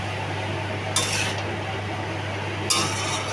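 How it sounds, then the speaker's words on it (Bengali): A bottle gourd is stirred in a cooking pan with chilli, a utensil scraping and clinking against the pan twice in short bursts over a steady low hum. "লাউটা একটু নাড়াচাড়া করবো কতক্ষণ"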